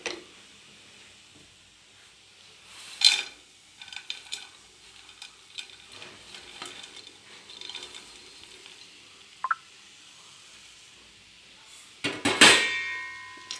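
Dry fruits being stirred into a thick homemade laddu mixture in a pan, with faint soft scraping and a couple of brief clinks of the spoon against the pan in an otherwise quiet room.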